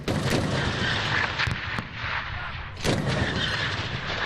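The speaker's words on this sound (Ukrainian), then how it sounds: "стрикочуть зі зброї різних калібрів: РПГ, кулемети, снайперські гвинтівки" Rapid bursts of gunfire from RPGs, machine guns and sniper rifles, with heavier booming shots, crack repeatedly, some loud and near, others echoing from a distance, in an irregular, continuous barrage.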